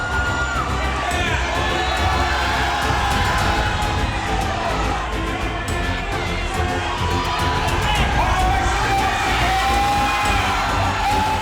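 A fight crowd at an amateur academy bout roars and cheers continuously, with shouts and whoops rising over a dense wall of voices, loud and sustained.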